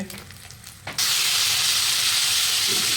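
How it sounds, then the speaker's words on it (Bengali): Egg frying in a hot pan for Maggi noodles, a sudden loud steady sizzle and hiss that starts after about a second of quieter kitchen sound and continues close up without talk. "এখানে ম্যাগির ডিমটা ভেজে নিচ্ছে"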